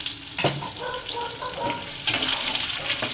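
Running tap water splashes steadily over two sprigs of curry leaves being rinsed at a sink, a continuous hiss with brief louder bursts as the leaves are moved under the stream, with faint kitchen sizzle behind.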